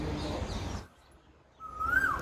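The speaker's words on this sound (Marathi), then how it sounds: "ओरिजिनल कोकिळा, ओरिजिनल आवाज" An Asian koel perched on a wire gives a clear rising call after a brief quiet gap, preceded by broadband outdoor noise and faint background sounds.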